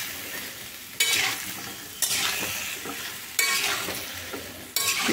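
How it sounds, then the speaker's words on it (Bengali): Washed, cut potatoes fry on a gas flame in a pan, each stir bringing a sharp burst of loud sizzling that fades back to a softer hiss, four surges in all, close up. "আলুটা দিয়ে ভালো করে নেড়ে নিয়ে একটু গ্যাসের ফ্লেমটা বাড়িয়ে দিলাম"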